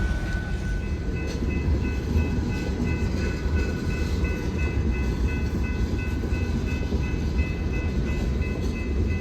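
A long northbound freight train of loaded scrap cars rolls past close by at evening in Columbus, Mississippi, a steady heavy rumble and rattle of wheels throughout with a faint tonal hum above.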